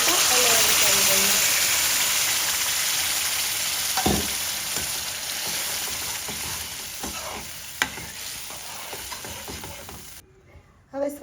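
Pav bhaji vegetables sautéing in a pan for khada pav bhaji, a strong steady sizzle that slowly eases, broken by stirring scrapes and clunks of a spoon, ending in a brief quiet moment.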